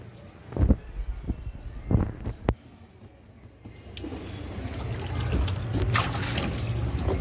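Water pouring into a small children's play pool, a few splashy bursts at first, then a continuous rushing trickle that builds and holds steady.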